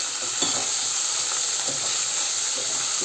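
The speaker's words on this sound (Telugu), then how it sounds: "ఇట్లా కాకరకాయ ముక్కలన్నీ వేసేసి బాగా కలిపేసేయాలి." Bitter gourd pieces are stirred in a hot pan for a curry, with a continuous loud hiss of frying and a few faint scrapes of the spoon, close and with no voices.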